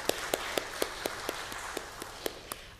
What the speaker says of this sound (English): If you want to give her a little wave or a clap